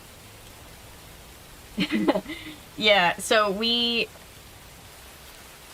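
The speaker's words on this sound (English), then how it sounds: "It's just, like, 10 hours of rain sounds." Recorded rain sounds playing softly as a constant hiss in the background, while a person speaks briefly over it.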